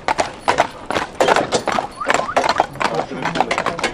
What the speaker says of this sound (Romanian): filmează pe calul cum vii de la Tirol